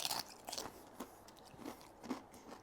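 Crisp bites and crunching chews of a tortilla chip topped with cashew cream, pepper and sunflower seeds, close to the mouth, about five distinct crunches spread over a couple of seconds.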